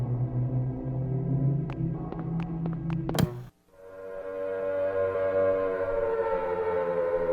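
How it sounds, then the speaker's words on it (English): Air raid siren in the Silent Hill 1 video game, a loud sustained mechanical wail that cuts out briefly midway, then swells back up and holds steady to the end. "The roaring sound of a siren can mean many things"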